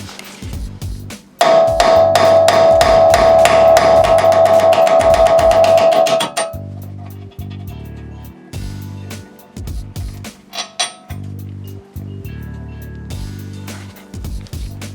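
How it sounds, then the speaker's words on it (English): Rapid metallic hammer strikes ring out in a fast burst as old wheel studs are hammered out of a Nissan 350Z hub, followed by slower, spaced individual blows on metal with brief pauses between. "I'm going to go ahead and get rid of these old studs and just hammer them out."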